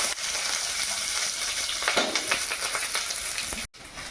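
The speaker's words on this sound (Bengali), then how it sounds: "তেলের মধ্যে এই যে কালো জিরে দিচ্ছি, রসুন," Black cumin and garlic hit hot oil in a pan, giving a loud continuous sizzle with crackling bursts and occasional stirring before it cuts off abruptly near the end.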